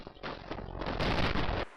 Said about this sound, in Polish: Odgłosy naszej broni są przeciętne, niby nawet pasują